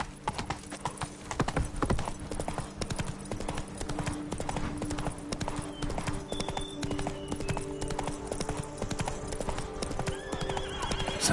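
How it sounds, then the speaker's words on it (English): Horse hooves clip-clopping at a gallop with whinnying, from The Witcher 3 video game, continuous and close over game music and ambience throughout. "Run, Roach."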